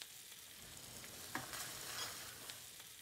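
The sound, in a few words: stirring vegetables in a pan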